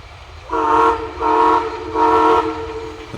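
A WW&F railway mixed train's horn blasts three times in a steady rhythm, each chord-like blast about half a second long, loud and fairly close over low rumbling.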